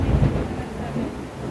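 A brief, deep rumble of thunder during a thunderstorm outside, low and rolling with a faint wash of rain behind it, heard from indoors.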